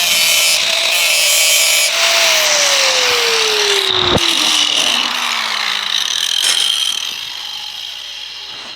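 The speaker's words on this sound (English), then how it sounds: "So I'm going to be just using a grinder now." An angle grinder cuts metal foot board mounts for a 1994 Harley-Davidson Dyna, a loud continuous whine whose pitch slowly drops under load, steady with no talk.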